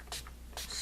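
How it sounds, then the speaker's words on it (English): Urban Decay All Nighter setting spray misted over a made-up face, two short close hissing spritzes with a pause between them. "this is that All Nighter Spray by Urban Decay"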